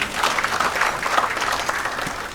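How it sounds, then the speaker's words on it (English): Audience applause at a nursing sciences alumni chapter launch at the Nairobi Safari Club: a steady, dense wash of clapping from a seated crowd that holds evenly throughout. "Please give them another round of applause"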